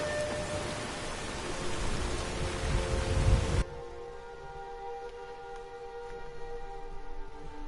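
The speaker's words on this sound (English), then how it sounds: "Of course, the rain always stops." Steady rain in Skyrim hisses loudly for a few seconds, then cuts off abruptly into a quiet, low ambient background.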